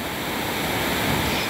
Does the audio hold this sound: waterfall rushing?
yes